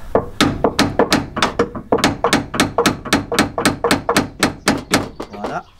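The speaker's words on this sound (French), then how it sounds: "Je prends mon marteau et je tape pour enfoncer" A hammer strikes a chisel driven into a ball joint during a clutch job on a Peugeot 206. The blows are loud, close and rapid, about sixteen in a steady rhythm.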